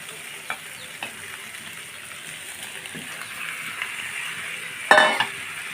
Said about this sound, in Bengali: টমেটোগুলো ভাজা হয়ে গেছে এখন আমি এর মধ্যে দিয়ে দিব মাছ